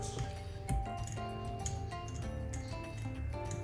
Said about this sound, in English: I just stir them around one more time, mixing in the soy milk